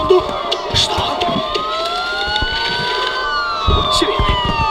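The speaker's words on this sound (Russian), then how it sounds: "Сирена, полиция." Police sirens wailing in the video game Batman: Arkham Asylum, several rising and falling tones overlapping steadily under a background crowd murmur, with brief clatters and thumps.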